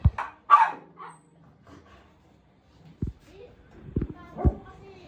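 Several dogs outside a house in the Philippines give a scattered series of sharp barks and yips, some near and some farther off. A few of the barks come in quick clusters.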